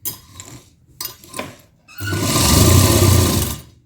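A sewing machine powered by an inverter during a power cut stitches a lined suit, with a few brief starts and then a loud, steady, close whirring run lasting under two seconds.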